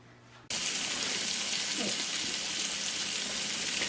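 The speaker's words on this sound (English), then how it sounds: "Hear the sizzle?" Thick-sliced bacon hits a hot skillet and erupts into a loud, steady sizzle and crackle that continues unbroken after a quiet moment at the start.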